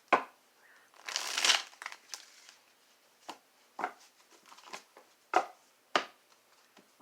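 Papery riffling and soft crinkly flicks of tarot cards being shuffled come in short bursts, a longer shuffle early followed by several quick separate snaps, close by and fairly quiet.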